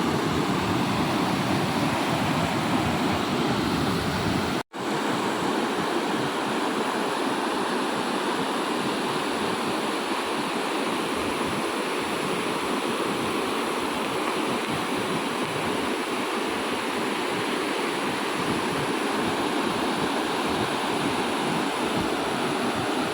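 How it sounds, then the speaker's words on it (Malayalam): Water crashes down a waterfall at Pasukkadavu near Kuttiyadi as a continuous loud, broadband roar, steady throughout apart from one brief dropout near the start, with no talk. "അവിടെ നിന്ന് ഇങ്ങനെ വെള്ളം ഇങ്ങോട്ട് വീഴുന്ന വെള്ളമാണ്"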